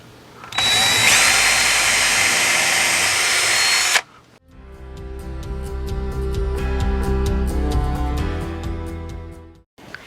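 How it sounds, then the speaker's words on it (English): A power drill with a Forstner bit whines loudly in a sustained burst, stops, then grinds through a wooden door in a steady, slightly pulsing run before cutting off. "I'm going to drill out the center of the hole"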